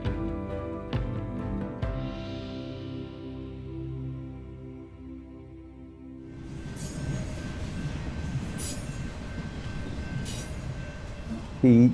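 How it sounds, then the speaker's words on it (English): A train runs on rails, wheels and carriages rumbling steadily at moderate distance, with a brief squeal and a louder passing wash in the second half. "they all came on Edward Watkin's train"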